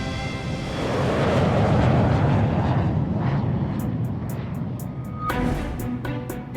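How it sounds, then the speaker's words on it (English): A C919 passenger jet under test in Pudong, Shanghai, gives a steady, loud broadband roar that swells early, then eases slightly and holds, with a few faint ticking sounds near the end. "The C919 is undergoing testing in Pudong, Shanghai."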